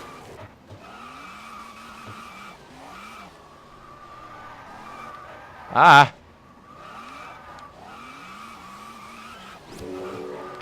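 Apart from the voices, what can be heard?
car skidding in the video game Test Drive Unlimited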